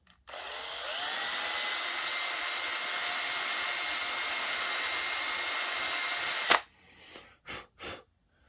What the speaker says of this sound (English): Brass brush, take the drill.